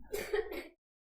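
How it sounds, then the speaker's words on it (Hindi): A person coughs and clears their throat in one short, close burst of rough throat sounds, then silence. "खांसो अच्छे से, पानी पियो, घबराओ नहीं।"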